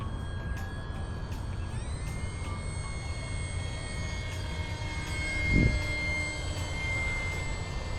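An FMS Easy Trainer 1228 RC plane flies overhead, its steady electric motor whine rising slightly as it accelerates through a turn, fairly distant over outdoor wind noise.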